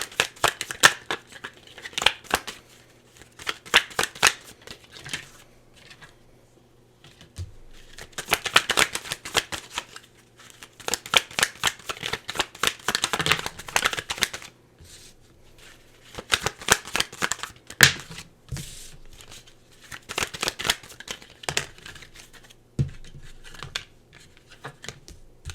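Tarot cards are shuffled close up, with repeated bursts of crisp riffling and flicking that come in clusters of several seconds apart from brief pauses, fairly loud and heard alone over a faint low hum.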